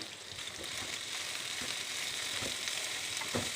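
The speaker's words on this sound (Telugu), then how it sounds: "ఆ దొండకాయలన్నీ దీంట్లో వేసి వేయించుకోవాలండి" Pieces of ivy gourd (tindora) frying in oil in a pan, a soft, steady sizzle with faint scattered crackles and occasional light stirring clicks, no voices.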